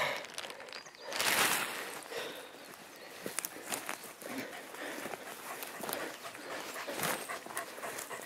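A hunting dog on a pest-control hunt in Izu, Japan, pants and whimpers faintly at close range, with rustling footsteps moving through the brush around it.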